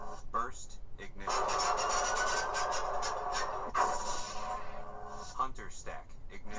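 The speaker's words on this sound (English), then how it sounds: "Burst ignition." A lightsaber's burst ignition effect plays as a sustained electric buzzing hum, with sharp surging flares near the start and again midway before it settles back to a steady drone.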